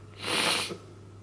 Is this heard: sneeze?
yes